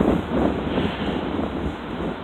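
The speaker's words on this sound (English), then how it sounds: "there's the wind for you." Strong afternoon wind in Mineola blows steadily across an outdoor microphone, a dense, rough rushing that fills the whole moment with no voices.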